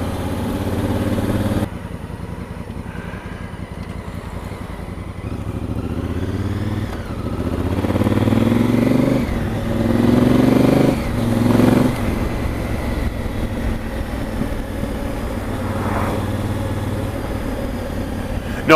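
A Honda Africa Twin motorcycle being ridden, its engine a steady mid-pitched drone that rises and falls through gear changes, heard continuously and fairly loud up close.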